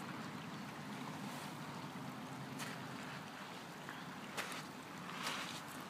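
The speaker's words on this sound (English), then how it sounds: "This is a huge creek that we found." A large creek near Porteau Cove emerges straight out of the ground; its water makes a steady, even rushing hiss throughout, fairly faint, with no talking.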